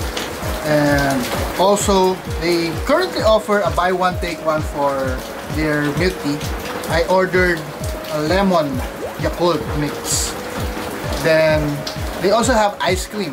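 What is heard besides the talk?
rain falling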